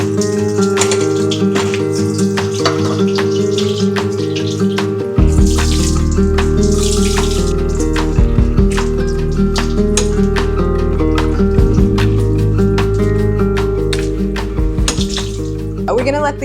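In a kitchen sink, cucumbers and onions are strained while water runs loudly and steadily from the tap. A tonal background hum continues beneath the water throughout.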